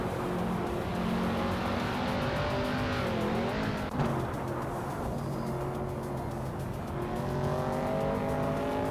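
Race cars in a racing video game, one of them a 1967 Mercury Cougar, roar continuously as engines rise and fall in pitch, with layered motor drones loud and steady throughout.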